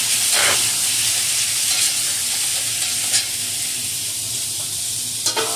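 Sliced onions hitting hot oil with cumin in a pan, a steady broadband sizzle and hiss with occasional stirring scrapes, close and continuous, no voices.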